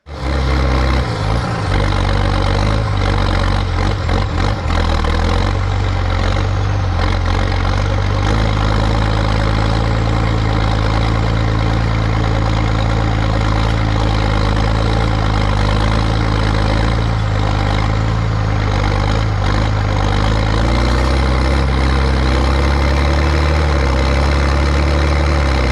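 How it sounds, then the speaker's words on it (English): A Massey Ferguson MF 3690 tractor's engine idles loud and close in a steady, continuous low rumble, with no talk over it. "that tractor, the noise of that tractor."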